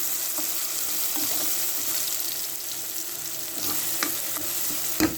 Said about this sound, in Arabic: هنا شايفين نقلب، وأول ما نشم ريحة الثوم